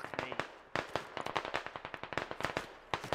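Rounds from small-arms fire in the military shooter game Squad crack off in quick irregular bursts, dozens of sharp snapping reports at moderate distance with no voices.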